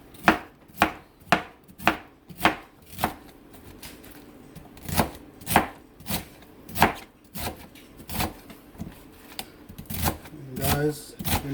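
A knife chops folded callaloo leaves on a board in steady, sharp, evenly spaced strokes, about a dozen up close, slowing slightly toward the end with light handling noise.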